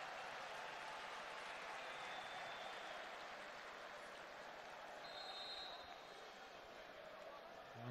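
Ironic applause from a football crowd in a Croatia versus Andorra match, steady dense clapping and crowd noise filling the stadium throughout, loud and continuous.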